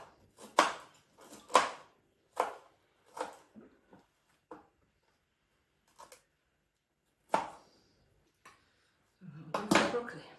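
Broccoli is chopped for broccoli and Stilton soup with a knife on a board, producing irregular, distinct knocks separated by quiet gaps and ending in a short rustling burst.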